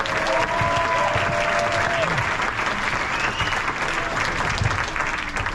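A concert audience applauds the in-house roadies and the community band's manager at a spring pops show, sustained loud clapping filling the hall, with a faint tonal whistle early on.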